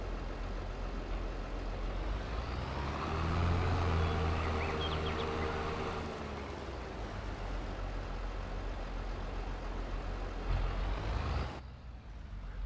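A New Holland TS series tractor engine in a video game drones steadily with a deep low rumble and mid-range hum, swelling slightly early on before easing off near the end.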